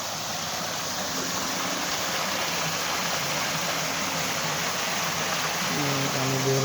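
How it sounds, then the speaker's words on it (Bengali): Water gushes out steadily near an irrigation channel among date palms on an Oman farm, a continuous loud rushing flow with a voice briefly heard near the end. "পানি বের হচ্ছে"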